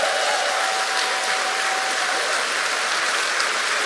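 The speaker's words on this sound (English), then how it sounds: "Can I just get a massive round of applause for those folks?" A festival crowd at EMF2024 gives a loud, sustained round of applause for the volunteer sound and lighting crew, a dense wall of clapping that holds steady throughout.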